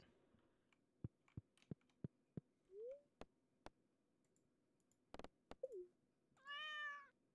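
Cat in the farming video game Stardew Valley: soft, short meows between rows of crisp clicks, ending in a longer, higher meow, all quiet over a low background hum.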